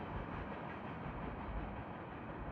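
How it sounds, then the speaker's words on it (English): Norfolk Southern freight train rolling past close by, a dense, continuous low rumble and roar of wheels and cars with no pauses, loud and steady throughout. "And there goes the train."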